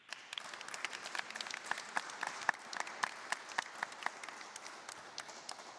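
An audience applauds inside the Église Saint-Pierre in Jarnac. The claps are individually distinct and fairly soft, with a lively, irregular patter and some sharper, louder claps scattered through it.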